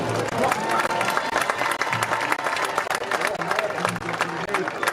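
A stadium crowd at a Springfield High School football homecoming applauds the 2025 homecoming court, dense sustained clapping with scattered cheers, loud and continuous, mixed with crowd noise.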